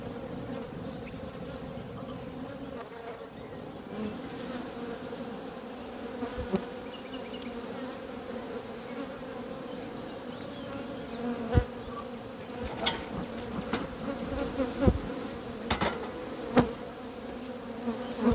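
A calm, clean honeybee colony at an apiary hive, a dense steady buzzing drone throughout, close and even, with a few faint knocks and no talking.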